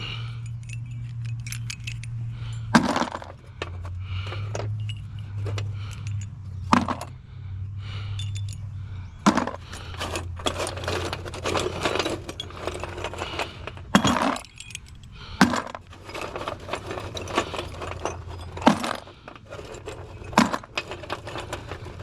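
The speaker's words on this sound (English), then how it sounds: "cut them, let them get in the bucket" Cut copper scrap pieces dropping into a bucket outdoors, sharp metallic clinks and jangles landing at irregular intervals amid snipping and rustling, with a low hum beneath.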